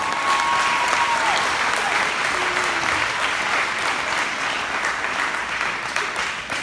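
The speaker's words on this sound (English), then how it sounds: "Round of applause." A commencement audience breaks into sustained applause, a dense wash of clapping that holds steady for several seconds before thinning slightly, with a faint tone gliding through early on.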